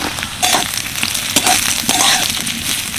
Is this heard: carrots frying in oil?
yes